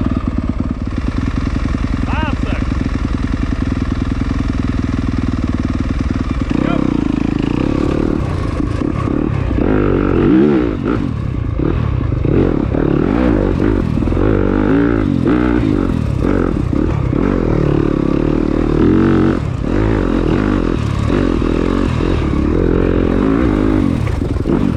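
A Yamaha enduro motorcycle rides a wooded trail test loop at an ISDE qualifier in Alabama, its engine loud and close throughout, revving and easing with clattering, scraping trail noise and bursts of wind.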